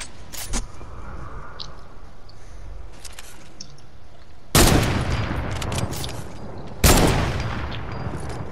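Gunfire in a video game shoots down a player's base, heard as two loud, sustained bursts of shots that start abruptly a couple of seconds apart after a quieter stretch.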